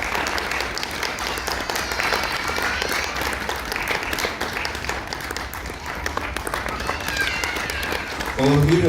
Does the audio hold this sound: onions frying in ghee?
no